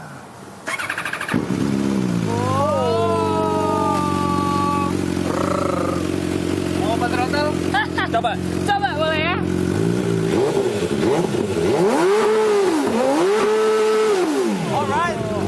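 A collector's big motorcycle, number 18 of a 250-unit worldwide run, starts up and idles with a deep steady throb, then revs up and down in several rising and falling swells, loud and close, with people talking over it.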